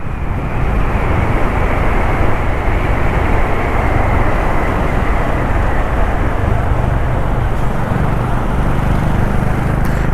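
A motorbike ride through a road tunnel on the way to Pune gives a loud, constant roar of engine and wind, with the steady rumble filling the enclosed space throughout without a break.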